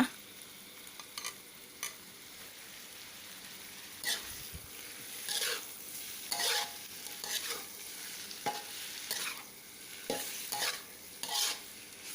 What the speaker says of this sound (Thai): เอาปลาหมึกลงไปผัดนะคะ